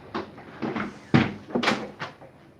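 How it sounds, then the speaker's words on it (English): An office chair is raised, giving a series of close mechanical clunks and thumps at uneven intervals, with one sharper knock in the middle and no talking. "let me boost my chair up."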